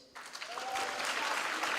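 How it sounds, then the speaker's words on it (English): Applause at a university graduation ceremony: a crowd claps continuously and fairly loudly after a brief quiet start, sustained to the end. "Can we applaud him for that?"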